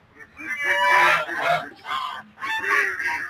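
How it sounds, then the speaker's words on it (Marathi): Several geese honk loudly and close by in a run of overlapping calls as they are let out of their enclosure, with a brief pause between bursts. "बघू शकता राजहंस आपण बाहेर सोडलेले आहेत."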